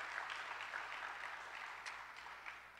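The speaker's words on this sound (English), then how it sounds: "give yourselves a round of applause for what you're going to do in the future" An audience of business leaders and entrepreneurs applauds in a soft, steady wash of many hands that sounds fairly distant, with no talking.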